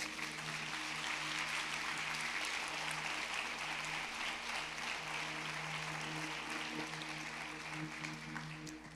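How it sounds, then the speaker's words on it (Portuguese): A church congregation claps steadily and loudly in response to the pastor, a dense, sustained wash of applause over a faint sustained musical tone, tapering slightly at the end. "Dá uma salva de palmas a Jesus."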